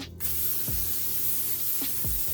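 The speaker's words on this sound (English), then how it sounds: "I want to just spray this" A short burst of aerosol spray hisses up close onto a baking pan, then a continuous soft hiss follows with a couple of faint thuds in the background.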